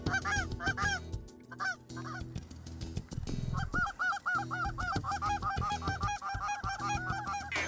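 Flock of Canada geese honking during migration over a hunting spread with decoys, a dense chorus of overlapping loud honks that pauses briefly and then returns as a steady clamor of many birds close by.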